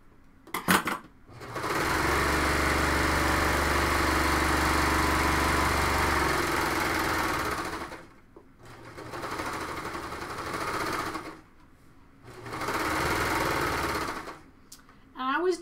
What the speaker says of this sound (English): Remember, the bottom is already hemmed, but you're going to just serge it